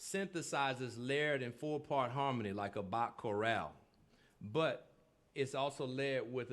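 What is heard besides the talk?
None of the usual background noises is heard.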